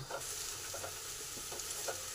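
Red amaranth greens with peanuts and bori stir-fried in a pan: close, steady sizzling broken by repeated stirring scrapes, with no voices.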